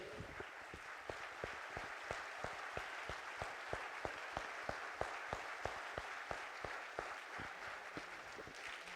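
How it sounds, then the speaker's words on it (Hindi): Steady, rhythmic hand clapping, each sharp clap evenly spaced about a quarter second apart, carries on without pause over a soft background of crowd noise. "मैं बताऊं ताली कैसे बजानी।"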